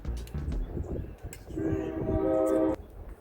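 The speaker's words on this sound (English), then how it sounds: "this train comes by every now and again, more on the weekends" Train passing near a camper parked for winter, low rumbling rail noise followed by a loud sustained horn blast, fairly close.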